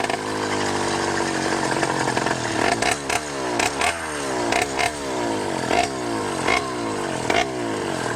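A 100cc motorized bicycle with a 49mm iron sleeve motor runs during a ride, its two-stroke engine buzzing loudly and close, rising and falling in pitch through repeated revs and gear strain.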